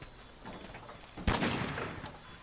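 Gunlance short-range shell shot in Monster Hunter World, a single sharp loud blast with a burst of noise that rings and decays over about a second, no talk.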